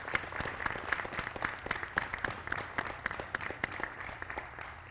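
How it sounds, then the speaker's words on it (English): Audience applauding at the 2023 TELUS Junior Women's Curling Championship, a steady patter of many hands clapping in a rink, moderately loud and continuous, with no voices over it. "round of applause to all 4 teams who treated us to some great games this afternoon"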